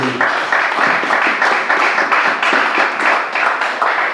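A church congregation applauding, steady dense clapping sustained throughout, loud and close, with rhythmic pulses as though the crowd claps in time.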